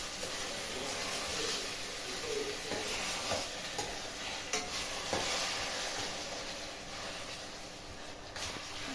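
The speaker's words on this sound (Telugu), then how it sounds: "కలుపుకోవాలండి కొంచెం మగ్గనియాలండి ఫ్రై చేస్తాను కొద్దిసేపు" Gongura chutney with green chillies being stirred and fried in a pan, a steady close sizzle with scraping stir strokes running throughout, no voices.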